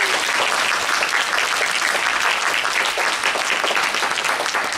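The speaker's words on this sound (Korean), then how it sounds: "박수 한번." A church youth congregation at an Auckland Sunday service breaks into steady, dense applause, loud and close, lasting the whole few seconds without any talk.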